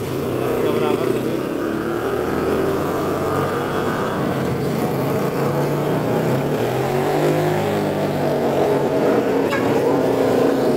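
Continuous engine noise from motorcycles passing on a potholed road during peak holiday return traffic in Indonesia, a loud steady drone with rising and fading revs, and voices faintly under it.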